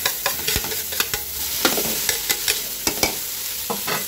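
Cabbage stir-fried for pancit, a loud hissing sizzle with repeated quick clicks and scrapes of a utensil tossing it in the pan, close up and without talk.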